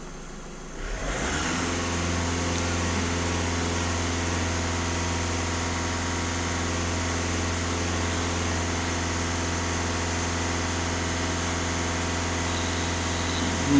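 A VW Golf 1.6 TDI diesel engine rises from quiet to a sustained high-rev whine at full throttle, holding a loud, steady tone close by.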